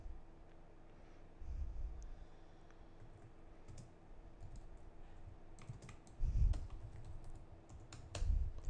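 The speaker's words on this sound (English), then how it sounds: "This new mouse is loud, clicky, and causes fails." Quiet, sharp clicks from a loud, clicky computer mouse come in short scattered bursts over faint low thumps and room hum.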